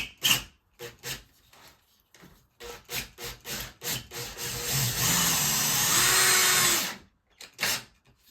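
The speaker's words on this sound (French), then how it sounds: "là j'utilise la visseuse, je mets dans le bout" Cordless drill-driver driving screws into a solid wall while floating shelves are mounted, heard as short bursts and then one long steady whir before stopping, with clicks and handling noises around it.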